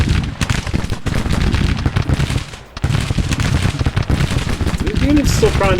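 Massed musket fire from a Civil War brigade in the strategy game Grand Tactician: Civil War, a dense, continuous crackle of rifle volleys with a brief lull midway, loud and close.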